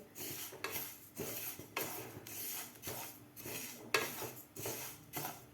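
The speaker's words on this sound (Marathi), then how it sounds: "मिडियम गॅसवर आपल्याला एकसारखा असा हलवत तीळ व्यवस्थित भाजून घ्यायचे आहेत" Sesame seeds are stirred constantly in a pan over a medium flame while they dry-roast, giving a steady run of rhythmic scraping strokes about twice a second, close and moderately loud, with no voices.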